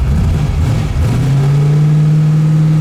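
A 1971 Camaro SS V8 with a stall converter revs up close and loud, then settles into a steady, strong drone as the engine holds high speed.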